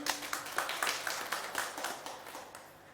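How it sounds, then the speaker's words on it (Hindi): An audience at a Hindu religious discourse by Gopal Mani Ji Maharaj in Kushinagar claps on request. The rhythmic, fairly quiet clapping keeps a steady beat and slowly fades out. "अब बजाओ ताली"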